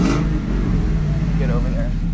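A stock-pulley-equipped Ford SVT Lightning pickup with 46,000 miles runs its supercharged engine, a steady low rumble with a slight rise in revs, under people talking nearby.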